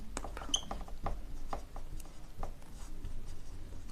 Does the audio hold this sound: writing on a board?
yes